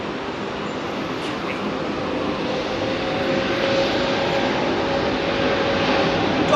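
Jet airliner engines spool up at Heathrow in fog, a broad roaring rush that builds gradually and steadily, heard from a distance and sustained throughout with no break.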